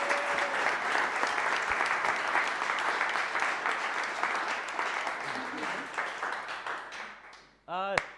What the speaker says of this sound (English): So welcome on stage with a very warm and loud applause, Christopher P. Holder.